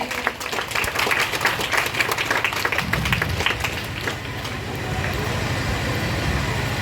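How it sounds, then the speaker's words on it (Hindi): Applause from a crowd at an outdoor Navratri gathering honoring women, with scattered clapping over the first few seconds that fades into a steady low rumble of road traffic and engine noise. "आप लोग जोरदार तालियां बजा दीजिए"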